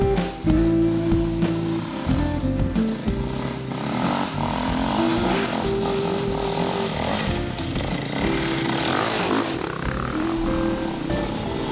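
Dirt motorcycle engine revving and droning continuously while riding a slippery, muddy track, loud and close with shifting pitch as the bike accelerates and eases off.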